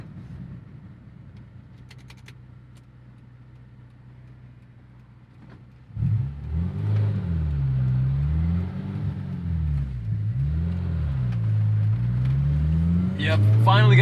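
A modified Honda S2000 AP2 idles with a low rumble, then the engine note rises and falls as the car pulls away and shifts gears, with a rough shift into second, heard loud from inside the cabin.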